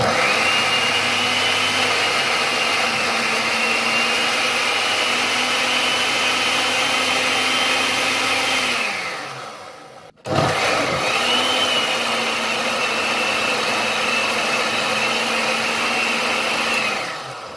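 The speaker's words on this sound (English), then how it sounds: "You can put in some of them and then you go ahead and you give it that a blend." An electric blender purees Jamaican green seasoning herbs, a loud steady whirring motor running alone, cutting off briefly before starting up again and running on.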